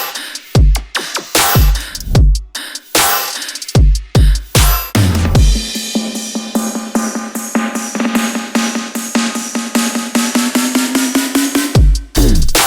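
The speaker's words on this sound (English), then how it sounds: "So it's super like saturated, like driven" Saturated, heavily driven drums from an energetic electronic remix of a track, loud and dense: stuttering punchy hits, then a rapid rolling build of tightly repeated strikes with a rising tone, ending in hard impacts.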